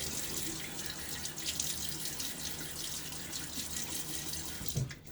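A bathroom tap runs steadily into a sink while a man wets his face before shaving, a soft continuous stream with faint splashes and a small thump near the end, no talking.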